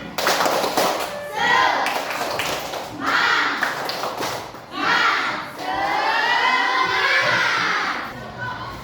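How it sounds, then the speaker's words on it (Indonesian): Schoolchildren at an elementary school do a rhythmic spirit clap in bursts, with group clapping mixed with children's voices chanting along, loud and close in a busy classroom. "Tepuk semangat."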